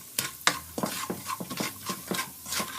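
A spoon stirs a dal rasam mixture in a pot, giving a short run of soft, close scraping and rubbing strokes in an irregular rhythm, with no talking.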